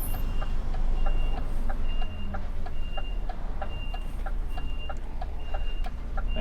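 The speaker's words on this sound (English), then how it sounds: "Listen out for beeps" Regular reversing beeps from a truck repeat steadily over a low engine rumble, moderately close, with a faint high tone running alongside.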